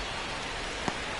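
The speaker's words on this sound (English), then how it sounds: "the field's not going to be able to hold up if the rain gets any worse than this" Rain pours onto a baseball field in the video game MLB 26, a dense steady hiss of falling drops with one brief sharper tap near the end, no talking.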